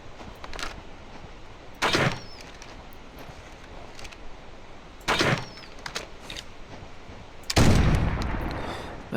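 Three separate rifle gunshots while hunting in the game Carnivores, spaced a few seconds apart over quiet outdoor ambience, each a sharp loud crack with a short decaying tail, no talk.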